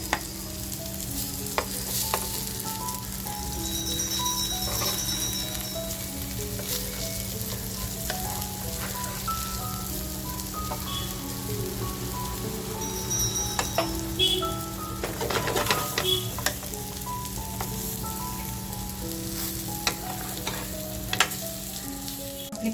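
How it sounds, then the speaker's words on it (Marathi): Surmai fish cutlets with potato crisp up in a frying pan, a sustained crackling sizzle dotted with spitting pops and occasional light scrapes, steady and close with no speech. "आपल्याला मस्त हे असे क्रिस्पी फक्त फ्राय करून घ्यायचे"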